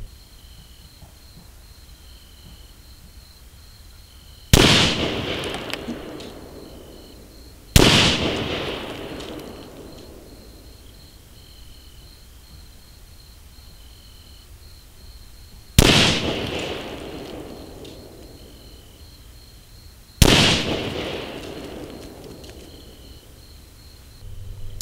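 Four sharp rifle shots fired from the prone position, spaced several seconds apart, each cracking loudly and trailing off in a long echo, with a steady insect chirr in the background.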